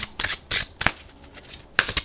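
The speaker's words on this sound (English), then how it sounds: "We are going to shuffle." Deck of oracle cards being shuffled in several quick, soft riffling bursts, close and quiet with short pauses between them.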